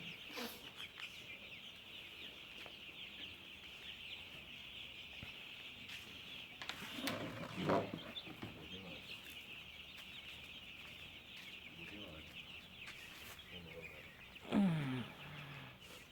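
Faint peeping of young broiler chicks huddled under a heat lamp in cold weather runs steadily under a constant high hum, with a couple of brief louder bursts of chirping and movement.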